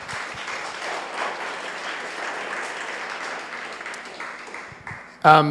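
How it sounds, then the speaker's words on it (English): An audience at a United Way gathering gives a sustained round of applause, a broad, even wash of many clapping hands heard from a distance that tapers off before a voice briefly cuts in at the end. "I think they all deserve a round of applause, really, truly."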